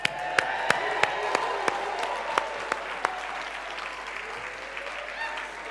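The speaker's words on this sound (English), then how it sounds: "Now give the real cheer." An audience at a keynote speech for a YMCA world council applauds, with sharp claps standing out over a continuous wash of clapping and cheering, loud and sustained for several seconds.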